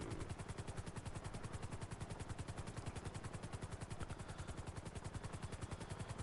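A loud, steady helicopter rotor chop in Grand Theft Auto V, with rapid rhythmic thumping continuing for the whole stretch, close and unbroken, with no voices.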